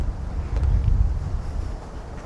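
Strong gusting wind buffets the microphone outdoors during a disc golf round, a loud low rumbling roar that swells and eases without any voices.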